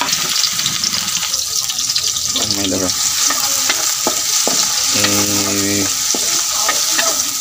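Onion and garlic sizzle and fry in a hot pan, a constant bright crackle, with occasional stirring scrapes and clinks of a utensil on the pan over it.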